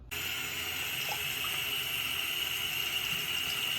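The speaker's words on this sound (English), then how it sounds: "just run this underneath the sink until the water runs clear" A sink tap runs steadily as a Dyson Multifloor 2 vacuum filter is rinsed underneath it, a constant close hiss of flowing water that starts abruptly and continues evenly.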